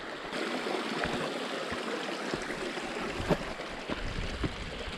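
Water rushes steadily over a natural granite ledge dam in a broad, continuous wash, close by, with occasional splashes and gurgles breaking through the flow.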